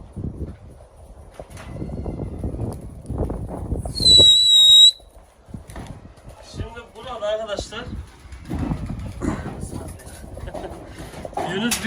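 Pigeons coo a few times while people talk nearby, with a brief high whistling tone partway through.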